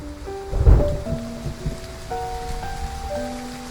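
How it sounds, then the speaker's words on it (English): Rain falling in the video game Love and Deepspace, a soft steady patter under a gentle musical score with sustained tones, and a brief low rumble near the start. "As raindrops suddenly fall,"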